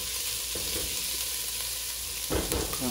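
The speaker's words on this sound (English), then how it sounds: "When you saute your vegetables, guys, it's so much more flavor inside your pot." Vegetables sautéing in a soup pot, a steady soft sizzle and crackle with occasional stirring scrapes, fairly quiet and close, with no talking.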